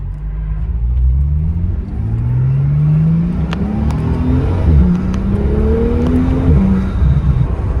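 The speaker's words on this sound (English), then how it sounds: "That 553 horsepower, twin turbocharged 6-cylinder engine, especially in the Sport Plus mode, absolutely takes off as soon as you put your foot on the gas" A 2015 Porsche 911 Turbo S with a 553-horsepower twin-turbocharged six-cylinder engine in Sport Plus mode accelerates, heard as a loud steady engine drone rising in pitch through several gear changes, without talk.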